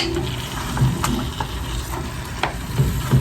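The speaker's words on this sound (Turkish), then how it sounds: "Şöyle bunu da kavuracağım şöyle bir tekrar." Meat and dried beans sautéed in a pan for an Aksaray-style bean dish, with sizzling, stirring and occasional scraping taps of a utensil, close and steady without talk.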